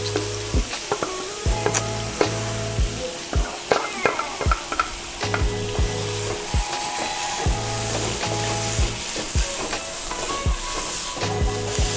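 Onions and green chilies frying in a pan, a steady close sizzle broken by repeated clinks and scrapes of a spoon stirring, with background music playing underneath.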